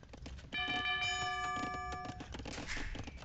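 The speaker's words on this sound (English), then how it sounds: "Town bell ringing." The town bell from the Age of Empires II video game rings out as a clear, sustained chime over soft in-game background clatter, fading after a couple of seconds.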